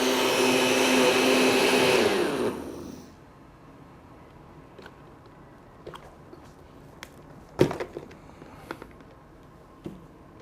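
A blender whirs loudly for about three seconds as it blends fresh herbs and spinach for juice, then stops abruptly. Scattered light knocks and clicks follow in a quiet room.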